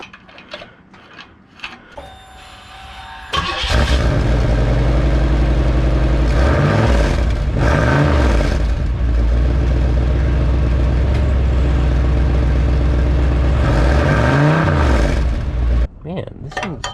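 Car engine revving hard with a cheap aftermarket turbo whistle fitted to the cutoff valve, a loud sustained roar that swells and falls in repeated rev surges, with a quiet mechanical lead-in before the engine kicks in.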